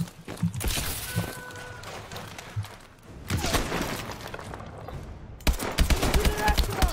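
Video game gunfire from Call of Duty Advanced Warfare, bursts of shots and automatic fire in repeated clusters with a loud volley near the end, mixed with other battle noise and some talk.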